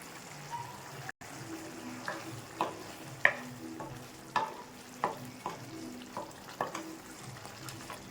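Drumstick curry with tamarind juice being stirred in a pan, soft sizzling and gentle bubbling under repeated light scrapes and taps of a spoon at an unhurried pace, close and quiet.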